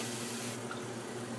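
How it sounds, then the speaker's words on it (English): Water trickles steadily into a shaving lather bowl from a tap, a soft continuous running sound at close range with no talking. "gonna add a little bit of water into the bowl."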